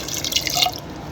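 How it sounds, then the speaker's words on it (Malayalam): A short splash of water is poured into a pressure cooker of chickpeas and tapioca, heard as a brief, close, bright trickle. "വെള്ളം കുറവാണെങ്കിൽ കുറച്ച് വെള്ളം കൂടി ചേർത്ത് കൊടുക്കുക"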